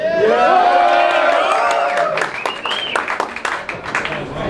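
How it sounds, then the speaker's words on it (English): An audience at a mobile technology meetup cheers and whoops over rising clapping, with voices yelling loudly at first before the applause breaks into scattered claps. "Say yeah, everybody clap."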